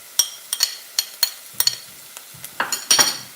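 Garlic and onions cooking in olive oil with cumin seeds, stirred in a pan for tadka dhal: a series of sharp utensil scrapes and clinks at an irregular rhythm, close and fairly quiet, with only a faint sizzle beneath.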